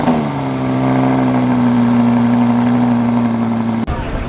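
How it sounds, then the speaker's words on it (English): A Lamborghini Huracan cold starting at a cars-and-coffee meet in San Antonio, its engine holding a loud, steady high idle with a brief rev before cutting off near the end. "that's what a Huracan sounds like on cold start with a little rev action"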